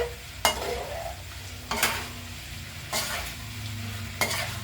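Pork rinds fry in rendering oil while being stirred constantly, a busy sizzle punctuated by four loud scraping stir strokes at regular intervals.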